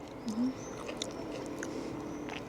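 Soft, close chewing of guineafowl over a low background hum, with a brief faint vocal murmur early on.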